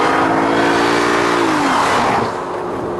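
An Audi A6 drives on a test track, its engine note loud and steady with rising harmonics as it accelerates, then easing off near the end, with no voices over it.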